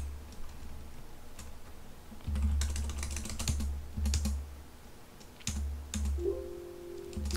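Computer keyboard typing with bursts of rapid clicks separated by short pauses during accounting data entry on a bank transaction form, close and moderately loud with no talking.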